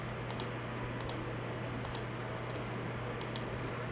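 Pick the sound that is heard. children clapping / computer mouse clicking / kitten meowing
computer mouse clicking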